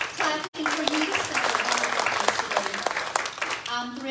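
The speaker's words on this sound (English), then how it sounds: "They're clapping for you," An audience claps in a church gathering at Green Acres Baptist Church, a continuous loud round of applause with a brief gap early on and a voice talking over it.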